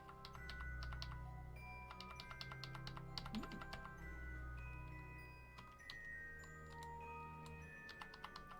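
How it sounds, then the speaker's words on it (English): Rapid keystrokes clatter on a computer keyboard during a live-streamed Kerbal Space Program session, clustered bursts of clicks with brief pauses, close and fairly quiet over a low hum. "None of my keyboards are working."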